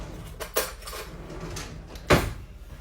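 A drawer sliding and metal cutlery clinking as a spoon is pulled out in a home kitchen; two sharp rattling clacks stand out against quiet room tone, with no talking.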